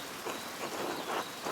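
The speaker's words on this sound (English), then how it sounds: "The rain is turning everything to mud." Steady rain pours in the game Pentiment, a dense even hiss of drops on the ground heard alone, soaking the surroundings.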